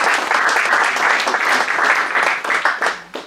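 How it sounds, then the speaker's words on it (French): Union members applaud Adrien Poirieux at a CGT New Year's gathering, a lively burst of close, crisp hand claps that holds steady and then tapers off near the end. "on l'applaudit"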